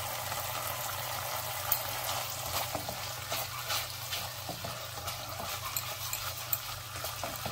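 Parwal korma is stirred in a frying pan after salt goes in, giving a soft, continuous sizzle with scraping and occasional small clicks of the spoon against the pan.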